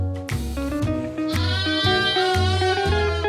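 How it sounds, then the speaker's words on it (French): Sheep on a farm in the Nièvre countryside of France bleat loudly and repeatedly, several close, overlapping wavering calls following one another with no talk. "on va voir les moutons"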